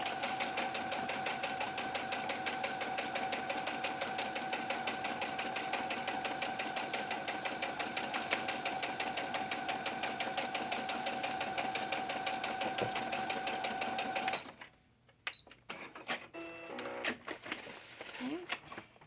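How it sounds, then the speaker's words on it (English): A sewing machine stitches a straight line down the middle of a quilted paper journal cover, running in a steady rapid whir for about fourteen seconds before stopping, followed by brief handling clicks. "I'm just going to stitch straight down the middle."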